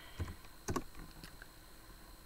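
A few quiet computer keyboard taps as a Minecraft command is typed on a PC, sparse clicks with short gaps, faint and close with no speech.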